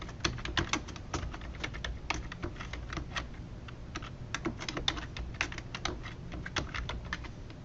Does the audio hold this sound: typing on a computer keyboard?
yes